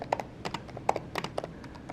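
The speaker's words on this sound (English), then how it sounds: "This is what it sounds like on the 2017 MacBook" Fingers type on a 2017 MacBook Pro keyboard, a quick, close sequence of soft, light key clicks in an irregular rhythm.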